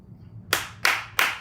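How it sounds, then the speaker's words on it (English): Three loud, sharp hand claps from someone speaking at a talk on supporting strong women, evenly spaced about a third of a second apart, close and alone with no talk over them. "That's my Holy Ghost clap"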